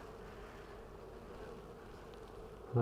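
Honey bees hum in a steady, dense buzz during a hive inspection on a hot day, close and even throughout, with a sudden louder thump at the end.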